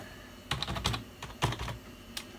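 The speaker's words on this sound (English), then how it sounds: "Right, keyboard is not working." Irregular clicking keystrokes on the keyboard of a vintage Compaq Deskpro PC while a CD key is entered during a Windows NT 4.0 installation, close and fairly quiet, in short uneven bursts.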